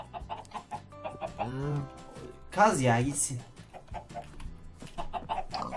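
Minecraft chickens cluck in a few short, close bursts while people talk over them throughout, in a cheerful game setting.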